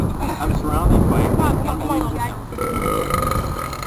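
A long, loud, rumbling belch rolls on for several seconds, delivered as a deliberate comic performance on a talk radio broadcast, with wind-like noise around it.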